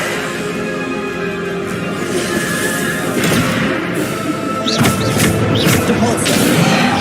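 Depulso spell cast in the video game Hogwarts Legacy, a loud whooshing magical blast amid ongoing combat effects, with sharp impact bursts and rising swishes layered over a dense rumbling battle soundscape.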